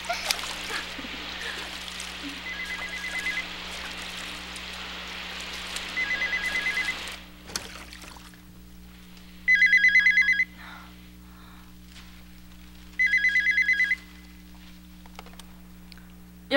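A telephone rings in a room in two loud, buzzing bursts of about a second each, set apart by a pause, after earlier splashing and a quieter stretch with a faint voice.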